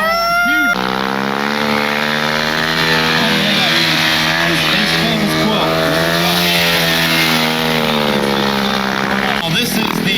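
A small stunt motorcycle revs loud and steady while riding around balanced on its front tire, the engine note holding high and close for the whole stretch with a brief drop at the start.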